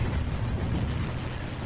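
A torpedo hitting a ship in the naval combat game Battlestations Pacific, a heavy, sustained explosive roar with dense low rumble and crackle filling the moment, loud and with no talking.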